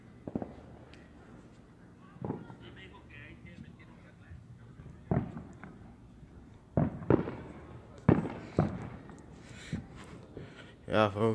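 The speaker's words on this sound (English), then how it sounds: "probably more fireworks" Outdoor fireworks sound as scattered booms and pops, some near and some distant, spread irregularly across the stretch with quiet gaps between bursts. People talk over them.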